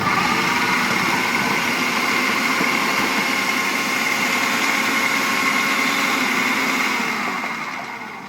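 A Miyako food processor slices potatoes for chips, its motor giving a continuous high whirring drone that holds steady and then eases off at the end.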